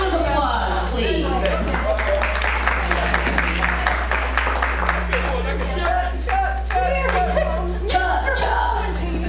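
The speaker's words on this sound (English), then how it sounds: "Round of applause, please." Audience applause at a conference session: sustained clapping from a room of people, fairly close and steady, with a constant low hum beneath and some chatter mixed in.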